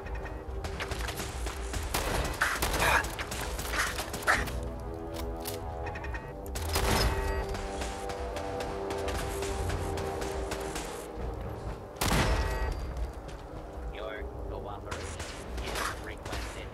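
Automated turret fire in Fallout 4's Nuka-World Starport area crackles in dense bursts and volleys amid game ambience, with someone talking over parts of it.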